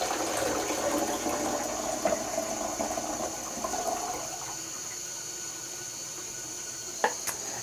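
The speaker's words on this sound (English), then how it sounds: "I'm going to pour the stop out." Stop bath poured out of a film developing tank while processing 35mm black-and-white film: a continuous gurgling stream of liquid drains into a sink, tapering off midway, with a faint clink near the end.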